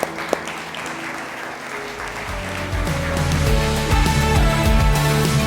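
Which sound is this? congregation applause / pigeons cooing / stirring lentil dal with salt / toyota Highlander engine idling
congregation applause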